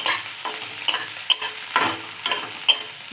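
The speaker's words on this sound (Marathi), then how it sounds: "कढईत घालून आता हलवूया" Potato filling for bread pakoda fries in a kadhai while a spoon stirs it, steady close sizzling with scraping strokes and light clinks against the pan, no talking.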